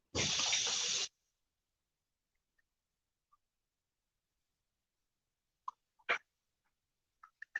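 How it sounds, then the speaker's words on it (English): Hands washed under a running tap, a loud one-second gush of water at the start followed by near silence and a few faint scattered clicks and splashes. "Wash my hands again."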